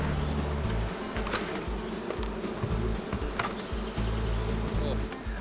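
Honey bees hum in a steady, dense drone at an opened backyard hive, close and continuous, with a few individual bees buzzing past.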